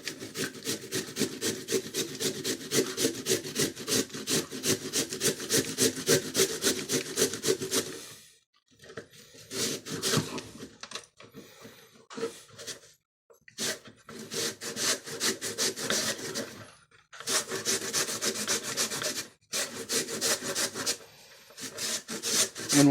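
Unpeeled, washed zucchini being grated by hand: fast rhythmic rasping strokes, close and loud, running in long bursts with short pauses between, no voices over it.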